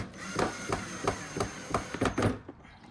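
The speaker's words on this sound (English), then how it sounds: "showed you how I'm screwing in the screws" A screw is driven into a wooden dresser base with a repeated rhythmic clicking and knocking, about eight evenly spaced strokes close up, over a steady background hum.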